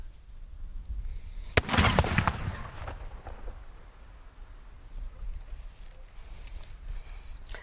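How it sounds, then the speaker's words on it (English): An explosive charge with detonation cord is fired in open air, giving one sharp, loud blast followed by a crackling, rumbling tail that fades over a couple of seconds into faint background noise. "I'm going to demonstrate how an explosive charge applied to a target behaves when you fire it in air."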